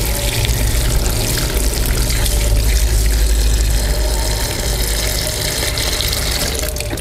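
Halua fruit pieces are washed and the water drained off, a loud steady rush of flowing, gushing water close by that continues without pause and with no talk.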